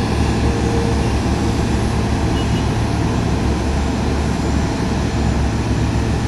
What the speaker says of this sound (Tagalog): Ganyan po ang tawag na pushback, yung nagtutulak ng eroplano.